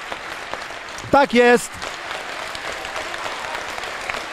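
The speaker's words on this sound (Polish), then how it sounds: "Dostają teraz za to brawa Radomianie, słusznie." Stadium crowd at a Radomiak Radom versus Rozwój Katowice football match applauding a fair-play gesture: steady, distant clapping runs beneath a commentator's brief remark.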